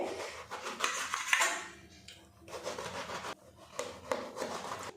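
A knife slices through eggplant on a board, with repeated scraping, rubbing strokes in several bursts separated by brief pauses; close and moderately loud, no talking.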